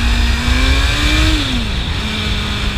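Honda CBR650F motorcycle engine revving up steadily, a loud continuous near drone with pitch rising then dropping back over about three seconds.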